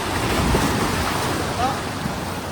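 Sea waves washing onto Butterfly Beach in South Goa, a steady broadband surf roar with wind buffeting the microphone throughout, continuous and fairly loud.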